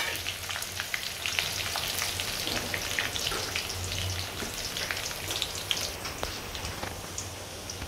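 Grated coconut frying in hot oil with green chillies for Maharashtrian poha chivda: a steady, close crackling sizzle with dense little pops throughout and no voices.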